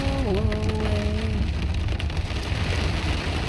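Rain drums steadily on the metal roof of a moving car, a dense even patter with low road rumble beneath it, and a brief fading tone at the start.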